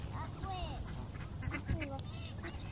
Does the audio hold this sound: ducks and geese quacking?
yes